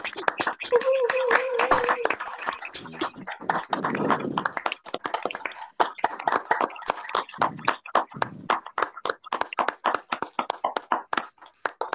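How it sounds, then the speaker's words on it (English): Applause for speakers at an online lecture, led by one person: sharp, close, rhythmic hand claps in a steady run, with brief talk near the start. "the speakers deserve an old-fashioned round of applause"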